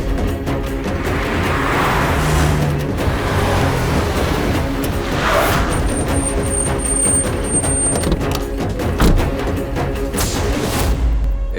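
A car on the move with a family riding inside, steady engine and road rumble running throughout at close range, with a brief higher whine in the middle and no talking.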